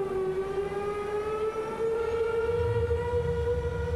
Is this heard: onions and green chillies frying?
no